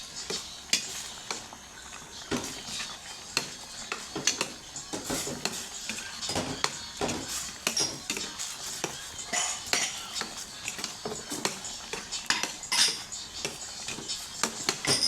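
A utensil scrapes and clinks against a pot while sweet saba banana mixture is stirred, cooking down into a thick syrup. Irregular taps and knocks repeat steadily, close up and fairly loud, with no talking.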